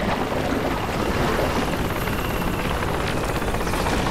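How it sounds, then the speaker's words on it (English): A helicopter in the video game Crysis gives a steady, dense rotor roar that fills the whole stretch at constant loudness, with no voices over it. "I hear that helicopter."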